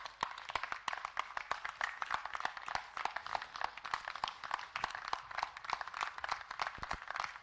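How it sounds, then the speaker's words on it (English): Audience at an evening public forum clapping, a steady spread of many hands at moderate distance, fairly quiet with no talk over it. "Another round of applause"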